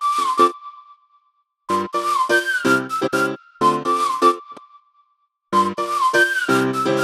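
Whistled melody in a music mix, bright clear pitched phrases in bursts with silent gaps, accompanied by a piano that only sounds while the whistle plays, cutting out abruptly whenever the whistling stops.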